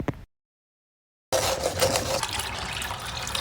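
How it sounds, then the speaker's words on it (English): Filtered water pours into a cooking pot for an okra dish, a steady close gushing fill that starts abruptly after a brief silence and runs continuously. "Water added"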